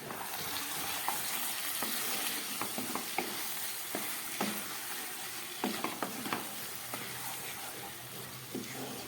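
Mutton cooking down with spices in a pot over low gas, a soft close sizzle broken by repeated scraping stir strokes at an irregular rhythm, with no talking.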